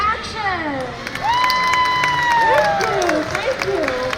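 An audience on Disney's Great Movie Ride at Hollywood Studios bursts into loud cheering, whooping and applause, with children shouting and high excited screams rising over a dense crowd roar.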